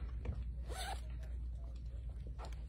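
A zipper on the top of a printed designer handbag with an adjustable strap is pulled open in one quick, close zip, with quiet room hum around it.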